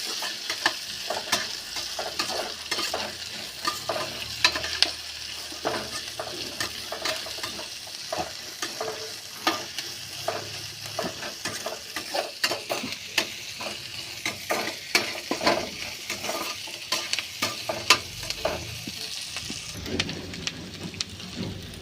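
Onions sautéing in a tin-lined kadai on a stove for tomato chutney, with a continuous crackling sizzle and frequent rhythmic spoon scrapes and clatters throughout, close and steady.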